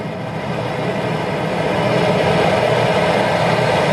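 A Fewewyo camping gas stove burner turned up high, giving a steady, loud broadband roar that holds constant throughout with no talking.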